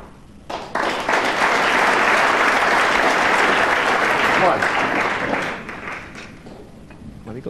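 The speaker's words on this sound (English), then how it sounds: "Well, he got some applause" A snooker crowd at the 2007 Premier League final between O'Sullivan and Higgins breaks into a loud burst of applause for a shot, holding steady for several seconds before fading, with a commentator talking over it.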